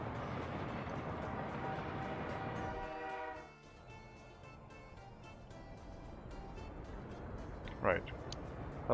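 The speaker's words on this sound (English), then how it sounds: "that was the train that I just bought and sent out" A train in the Workers and Resources video game rumbling past, loud at first then fading after a few seconds, with a short horn blast near the end under game ambience.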